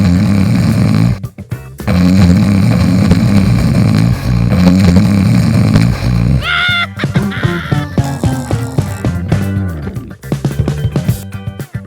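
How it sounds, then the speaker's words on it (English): Loud, heavy snoring in a bedtime setting, long rumbling rattling breaths repeating one after another, then shifting into a mix of varied snorts and grunting snores from more than one sleeper. "They snore and rumble all through the night"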